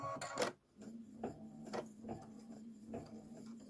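A home embroidery machine stitches a window placement line on a quilt block, giving quiet, rhythmic mechanical ticking and whirring bursts close by, with no voices.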